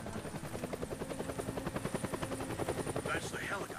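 A helicopter in the video game Deadlight thumps with fast, steady rotor beats, loud and close, while a voice speaks briefly near the end.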